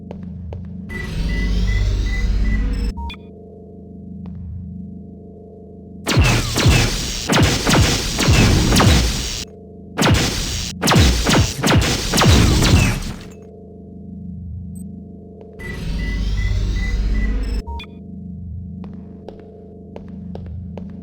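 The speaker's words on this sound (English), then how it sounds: "Now, use the recharging station nearby. The recharge station will juice up all your energy-based items." A recharging station for energy weapons in System Shock 2 hums with a steady, throbbing electrical drone, broken by a long stretch of loud, crackling, sputtering bursts before the hum returns.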